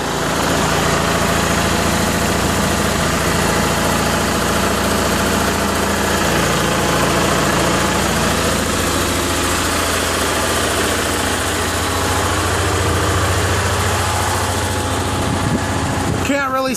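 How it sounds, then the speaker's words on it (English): An Onan generator engine runs steadily in a backyard, a continuous loud drone with a low hum and a mechanical rattle that carries on without a break, while a person talks over it. "There's the generator."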